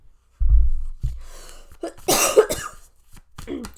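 A person coughs close to the microphone, a couple of heavy, rough bursts followed by a throat-clearing hack and some breathy sounds.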